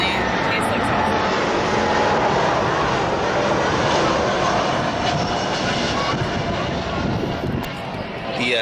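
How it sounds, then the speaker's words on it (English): A fixed-wing airliner coming in to land at Billund Airport beside Legoland roars steadily overhead, a loud, sustained engine drone filling the whole stretch as people talk beneath it. "The Billund Airport is right next to Legoland, so there's a flight coming in for landing"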